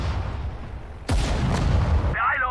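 Artillery cannons fire in the WWII strategy game Sudden Strike 4, a sudden loud boom cutting through a low rumble and then holding as a dense, sustained roar before fading into softer background noise.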